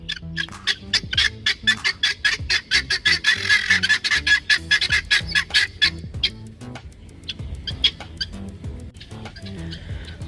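Poultry squawking and clucking in a dense, continuous chorus with scattered pecking clicks, fairly close and loud, on a hot day outdoors in Konkan; the calls thin out toward the end.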